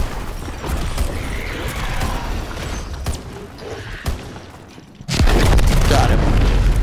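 A Panzer mortar explodes during a boss fight in Call of Duty WW2. Rumbling battle noise and a few thuds build to a sudden, loud, heavy blast that sustains a deep roar, with game voices faintly mixed in.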